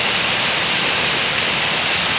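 Heavy rain pouring in Malabon, a loud, dense and continuous hiss of downpour on surfaces, close and unbroken throughout with no voices.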